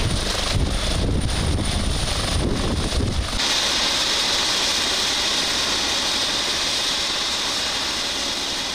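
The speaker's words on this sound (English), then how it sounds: "The pilot expertly navigates the aircraft into the sky, with the president being the first to take off." Kenyan presidential aircraft taking off: a loud, steady engine roar with a broad hiss, a rhythmic beating layer in the first few seconds, then a smooth sustained drone.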